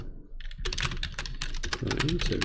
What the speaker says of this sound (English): Sorry about my keyboard, folks at home.